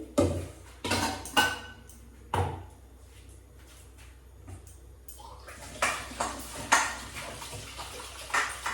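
Potatoes, papaya and bitter gourd being washed by hand in a vessel of water in a home kitchen, with intermittent splashes, sloshing and clinks against the pot in short bursts, close and moderately loud.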